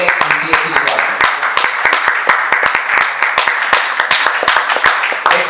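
Crowd at a Founder's Day award ceremony applauding a recipient: loose, scattered claps ringing out close and irregular for several seconds, with voices underneath.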